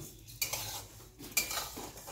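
A spoon stirring and scraping in a cooking pan while cumin is tempered for bottle gourd and prawn curry, two quiet clattering strokes with faint sizzling between them.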